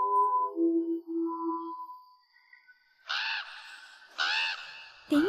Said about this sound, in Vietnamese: Tiếng con chim heo đó.